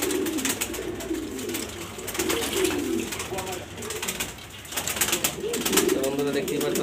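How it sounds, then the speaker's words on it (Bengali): Pet pigeons bathing nearby coo in low, repeated throaty calls, with splashing and rustling water throughout. Someone talks over them at times. "আমার কবুতরগুলো আজকে গোসল করতেছে খুব সুন্দরভাবে।"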